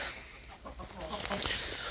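Chickens cluck softly at close range while eating grain, with scattered short calls over a low background murmur.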